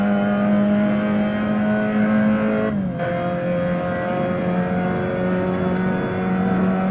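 A 1966 car at Monza revs up through the gears, a loud steady engine drone that dips briefly during a shift and then carries on at a lower pitch, close and continuous.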